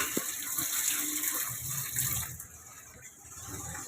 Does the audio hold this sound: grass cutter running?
no